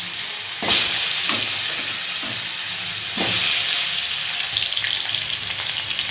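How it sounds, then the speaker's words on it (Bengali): Potato pieces fry in hot oil tempered with cumin and a small bay leaf, a loud steady sizzle with two sharp bursts of spitting hiss as stirring turns them, close up and without talk. "আলুগুলোকে ভেজে নিই"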